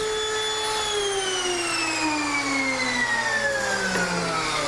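A handheld wood router used for grooving in joinery gives a loud, steady, high-pitched motor whine with strong overtones that slowly sinks in pitch as it winds down; no one speaks.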